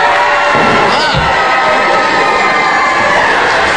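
A wrestling crowd in Carlisle, Pennsylvania reacting with loud, continuous cheering, shouting and whooping that fills the whole clip without a break.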